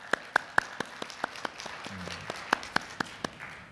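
Sparse, scattered hand claps from a small church congregation during a Sunday sermon, a few sharp, separate claps rather than a full ovation, fairly close in a quiet room.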